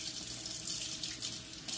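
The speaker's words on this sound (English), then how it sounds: "And then I'll keep rinsing until there's no more soap left." Warm tap water running steadily from a faucet into a sink while soap is rinsed out of a baby bottle, a continuous bright splashing hiss with no talking.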